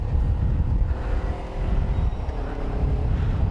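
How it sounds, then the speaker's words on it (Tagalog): Motorcycle with a stock muffler running while riding to work, giving a steady low, fairly quiet exhaust drone mixed with road and wind rumble throughout. "medyo mahina na yung tunog ng exhaust ko kasi bumalik ako sa stock muffler"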